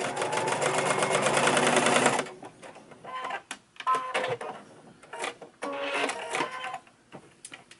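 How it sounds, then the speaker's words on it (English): A sewing machine top stitching along the seam edge of a fabric face mask, running in a loud steady whir at first, then in short stop-start bursts of stitching with pauses between. "now what I'm doing is I'm top stitching this. So I'm just following the edge of the seam"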